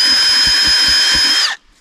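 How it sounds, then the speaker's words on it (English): High-pitched whine of a power drill boring a hole in cardboard, running steadily up close, then stopping abruptly as the motor winds down. "I'm gonna take the drill. I'm just gonna put a hole right in the middle of this."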